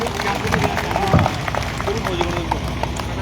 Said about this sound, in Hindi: एक बार जोरदार तालियां इन बालकों के लिए